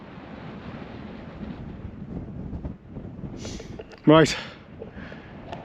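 Breezy wind gusting across a Welsh mountain summit with a big cairn, near Manod Mawr in the Moelwyns, buffeting the microphone as a steady rumble before someone speaks briefly near the end.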